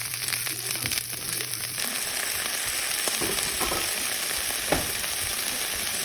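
Beef and broccoli stir-frying in hot oil with a splash of wine, a close, steady hiss and sizzle with occasional stirring scrapes and clinks, loud and continuous with no talking.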